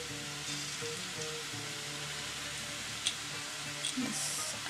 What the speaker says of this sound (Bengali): আমি এখন প্রথমে একটু ঘি দিয়ে দিচ্ছি